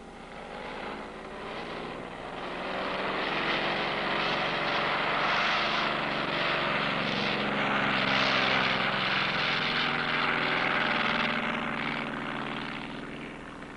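A propeller airplane drones steadily in flight, a loud continuous engine roar that swells slightly and holds for several seconds with no voices over it.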